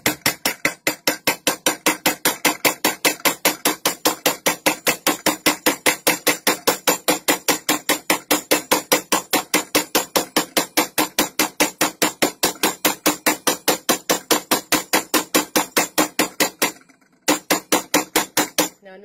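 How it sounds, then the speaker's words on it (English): Steady, rapid metal hammering on the voided area of a knife handle, dozens of evenly spaced sharp strikes close by, with a brief pause near the end before a few more blows. "I'm just hammering the voided area."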